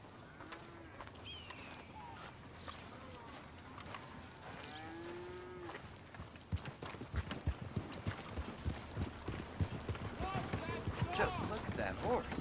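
Hooves clip-clop on the ground in Red Dead Redemption 2, starting after a stretch of ambient game sounds and mooing cattle, then a steady, fairly close rhythm of hoofbeats that continues to the end.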